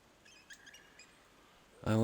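Forest birds chirp faintly in the Medieval Dynasty video game, a few short high tweets over quiet ambience, before a voice starts speaking loudly at the end.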